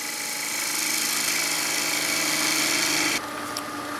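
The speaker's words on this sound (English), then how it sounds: "Now I'm going to shut the lathe off" A wood lathe spins a burl box lid during a finishing cut, giving a steady, loud whir with broadband scraping hiss that drops abruptly quieter near the end as the tool lifts off.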